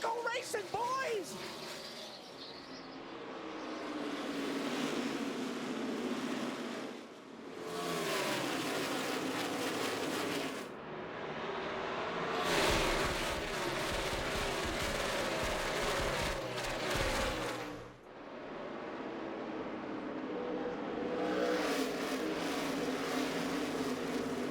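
NASCAR Sprint Cup race cars roar away at the green flag start of the 2014 race, a loud continuous engine din with rising revs and passing surges, while a commentator talks over it.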